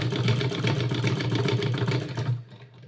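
A sewing machine stitching a salwar runs in a fast, steady mechanical chatter for about two seconds, close and fairly loud, then stops abruptly.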